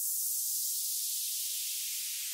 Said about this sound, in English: Start the drop by adding another downlifter.